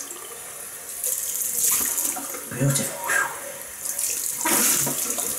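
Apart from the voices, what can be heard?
cold water running from a tap to rinse after shaving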